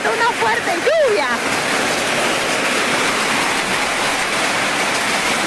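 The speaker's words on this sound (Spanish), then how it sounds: "Está cayendo granizo en la parte alta del distrito de Paucarpata, una fuerte lluvia." Hail and heavy rain pour down in the upper district of Paucarpata, Arequipa, a dense, steady roar of falling water throughout, with a brief voice near the start.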